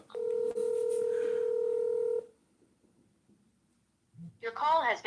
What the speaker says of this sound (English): Let's call the real Joy.